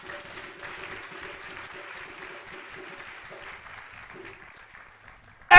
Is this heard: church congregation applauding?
yes